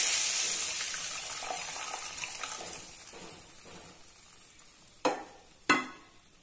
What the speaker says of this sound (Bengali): এবার এর মধ্যে আমি এই যে পোস্ত আর সর্ষে বেটে রেখেছি সেই জলটা দিয়ে দিলাম